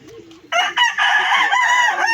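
A farm rooster crows loudly and close by in one long, strained call that holds to the end, with faint clucking from the flock before it.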